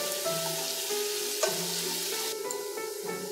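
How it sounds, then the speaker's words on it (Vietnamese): Minced shallots and garlic frying in hot oil give a steady sizzle and crackle, close by, with a few soft stirring clinks and scrapes, no voices. "Dầu nóng lên rồi á thì cho hành tím băm nè, tỏi băm vô. Phi cho nó thơm"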